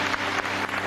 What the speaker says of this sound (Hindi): अम्मी के लिए बहुत सारी तालियां